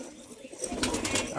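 Restless Kaldum pigeons in a loft, eager to get out, coo in low murmuring bursts with some fluttering and shuffling, close and moderately loud.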